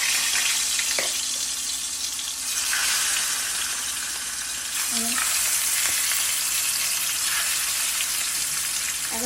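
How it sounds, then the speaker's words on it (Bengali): Grass carp fish fries in a pan with a loud, continuous hiss and crackle that lasts throughout, with no talking. "এই গ্রাস কার্প মাছই এখন ভাজি"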